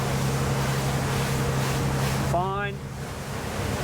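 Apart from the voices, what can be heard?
Jeanneau Cap Camarat 9.0 boat going through waves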